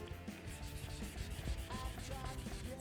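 Straight razor blade honed on an Asano Nagura Mejiro stone around 9000 grit, giving a faint, steady wet rubbing and scraping with repeated soft strokes, close up and quiet.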